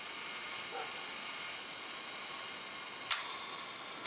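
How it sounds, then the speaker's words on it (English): A quiet, steady hiss of an Exakta Twin TL camera self-timer running, followed by one sharp, close mechanical click of the shutter near the end. "There it opened and completed the cycle, so the self-timer works."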